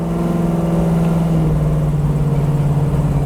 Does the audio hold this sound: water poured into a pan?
no